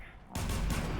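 Burst of dense gunfire from a Fallout 4 firefight erupts suddenly and loudly after a brief quieter moment, sustained rattling shots filling the rest of the moment.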